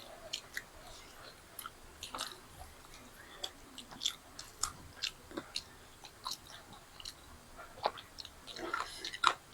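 Someone chews paratha with paneer curry close to the mic, with soft repeated bites and moist, squishy mastication in an irregular rhythm and a faint voice briefly in the background.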